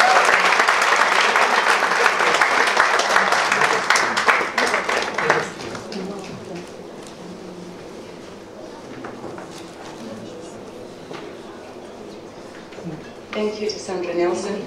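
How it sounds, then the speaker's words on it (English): An audience at a women's conference and awards event applauds loudly and steadily for an incoming speaker, then the clapping fades to a quieter room with a voice speaking and a few scattered claps near the end. "Let's keep clapping for her."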